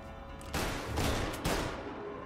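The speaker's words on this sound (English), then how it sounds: "I don't know where they're shooting from." Gunfire in Mafia: Definitive Edition, with bursts of rapid shots cracking in two close loud volleys over a steady background, no voices.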